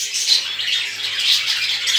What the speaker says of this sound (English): in the aviary there are lots of birds and they make the cages very dirty